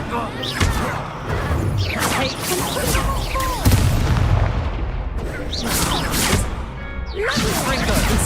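Confringo spell explosions in Hogwarts Legacy, played on a PC with an RTX 3060: repeated loud booms, crashes and whooshing blasts packed into a dense combat mix, with game voices heard briefly among the impacts.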